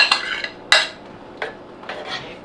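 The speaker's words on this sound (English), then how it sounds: "I'm going to scrape the rest of this cheese into there" Metal utensil scraping the last of the cheddar cheese from a container into a pot of Canadian cheddar cheese soup, four or five short scrapes and clinks, close and crisp, with no talking.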